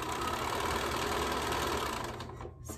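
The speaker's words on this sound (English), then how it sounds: "I can sew 5 more of these little squares on to all these rows" A home sewing machine stitches quilt squares onto rows in a steady, continuous mechanical whir, running close and unbroken before cutting off near the end.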